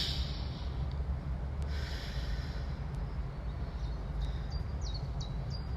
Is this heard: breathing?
yes